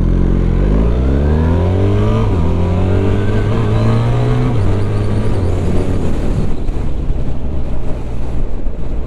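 A BMW R1300 R motorcycle engine accelerates hard, its note climbing in pitch through successive gear changes, loud and close with steady wind rush over the microphone.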